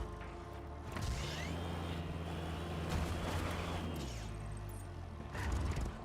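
A tractor in Just Cause 3 drives over rocks, its steady low engine drone holding throughout, overlaid by rough grinding and scraping with a few harsher crunches toward the end.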